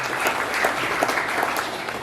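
An audience at a fireside chat event claps in a steady burst of applause, continuous and fairly loud for the whole stretch with a little talk beneath.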